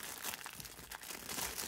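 A plastic packaging bag holding a compact fleece blanket is opened up close, giving a steady crinkling and rustling of plastic throughout with no talk.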